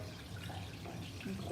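Water churned and stirred inside a fish tank holding pea puffers or other carnivorous fish, a steady close sloshing wash without talk over it.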